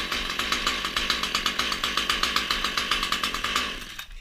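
A Husqvarna T540XP top-handle chainsaw running rough as it struggles to idle, a loud buzzing two-stroke engine close by with an uneven pulsing rhythm before it cuts off.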